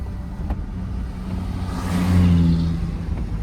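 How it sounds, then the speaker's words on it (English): A classic car engine revving outdoors, rising to a louder surge midway through before easing back, close by with no talk. "look at this, the classic car just up here."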